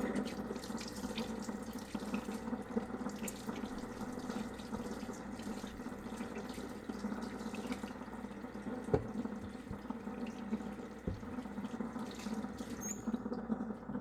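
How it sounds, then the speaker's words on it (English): Tap water runs steadily into a kitchen sink while potatoes are rinsed for potato salad, a continuous close hiss and splash with a few faint knocks and no speech. "Next, you're going to rinse off your potatoes."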